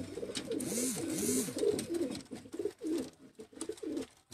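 Pigeons kept on a rooftop coo in soft, rolling calls, several low warbling phrases close by, with some rustling between them.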